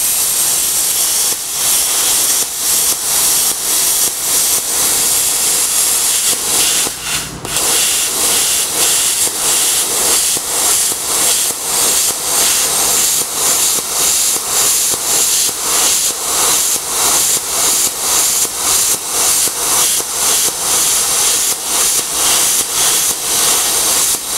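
Spot welds are gouged out of layered sheet metal in a loud, sustained hissing roar broken into rapid regular pulses, continuous and close, with no talking.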